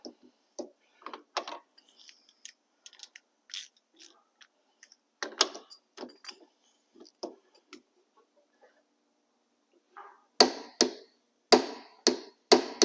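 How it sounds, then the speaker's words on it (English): Torque wrench tightening a hub nut on a Spec Miata MX5 during a hub rebuild: sparse mechanical ticks and clicks early on, then a run of four or five loud, sharp ratcheting clicks near the end, no talk. "So, I need to torque this to 100 pounds."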